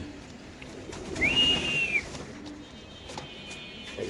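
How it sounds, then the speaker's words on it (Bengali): A male pigeon held near a hen at a pigeon farm gives a single drawn-out whistling call, clear and close over quiet background murmur. "নরের ডাকটা একটু ভালো দর্শকদের একটা দেখাই দিই"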